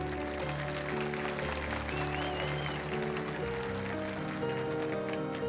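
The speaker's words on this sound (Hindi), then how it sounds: "अगर मैं सच बोल रहा हूं तो आपकी तालियां पहुंचनी चाहिए।" A crowd applauds during a public speech: a continuous wash of clapping mixed with sustained background tones, holding at a steady moderate level.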